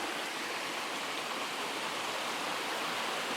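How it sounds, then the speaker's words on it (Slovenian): Water pours steadily at the foot of a waterfall on a tributary stream of the Valbona river, a loud, even, unbroken hiss and rush heard close up. "In smo v podnožju slapa."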